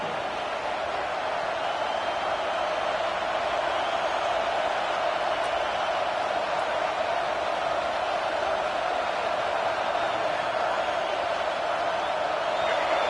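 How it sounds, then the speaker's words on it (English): A football stadium crowd at a Michigan State versus Michigan game roars steadily and evenly throughout, a dense sustained wash of massed voices with no breaks, loud and constant. "The roar of the crowd trying to fuel this defense to keep them pinned in their own end."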